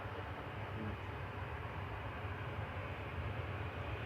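Airbus A319 airliner at Manchester Airport, a steady broad jet roar holding level throughout, moderately distant, with no voices.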